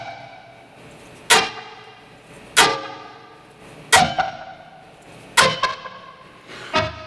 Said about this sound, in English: It's also a longer delay time, so this time you actually hear it.